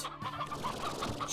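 Chickens cluck in a video game farm setting, a few soft, fairly faint fowl clucks in quick irregular succession with no talk over them.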